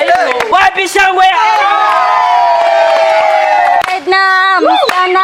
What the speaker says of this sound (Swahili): Kwa hivyo wapi shangwe?